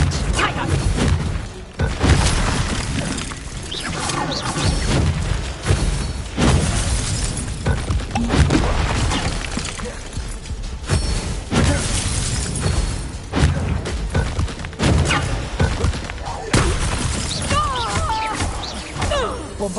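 Bombarda explosion spell cast in Hogwarts Legacy on PS5 Pro, loud repeated bursts and shattering crashes amid combat, mixed with game music and a voice talking over the action.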